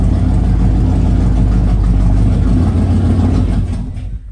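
A flooded Ford Mustang engine runs roughly at a low, heavy idle, loud and close. It holds for a few seconds, then sputters and fades out as it dies.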